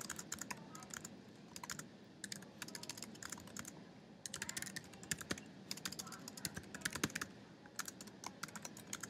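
Typing code on a computer keyboard, with quiet, rapid bursts of key clicks separated by short pauses, close by and without talk.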